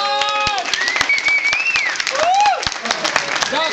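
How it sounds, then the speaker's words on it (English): Convention crowd at La Mole Con in 2012 applauding and cheering, a dense continuous clatter of clapping under loud whoops and a rising shouted voice throughout. "Entonces denle un aplauso"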